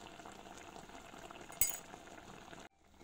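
Tomato sauce for a three-cheese pizza simmering quietly in a pan, a faint steady bubbling hiss broken by one sharp metallic clink of a utensil near the end, with no talk.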